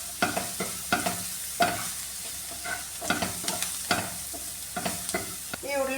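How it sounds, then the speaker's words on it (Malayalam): Onions fry in a pan with salt and a little turmeric, a soft continuous sizzle broken by repeated scraping stirs and clicks of a spoon, close and fairly quiet, with no talking. "ഈ ഉള്ളിയെല്ലാം കൂടെ നന്നായിട്ടൊന്ന് മൂപ്പിച്ചെടുക്കാണ്"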